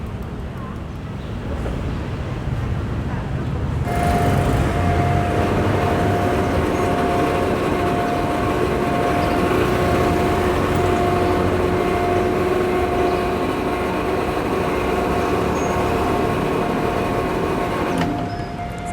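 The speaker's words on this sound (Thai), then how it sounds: "เราก็จะมาชมขบวน 372 นะครับ ปราจีนบุรีกรุงเทพ จุดตัดทางรถไฟนะครับ RCA" Thai passenger train 372 from Prachinburi to Bangkok rolls through the RCA railroad crossing, a loud sustained rumble and wheel roar with a steady tonal hum, rising abruptly and holding for about fifteen seconds before cutting off.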